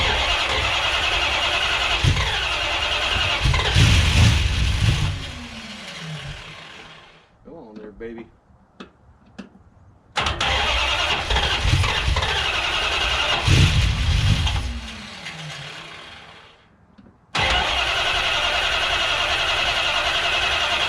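A 1970 Plymouth Duster with a 340 engine cranks and tries to fire on a first start attempt, two long loud bursts of starter whir and rough engine noise separated by brief pauses, with people talking nearby.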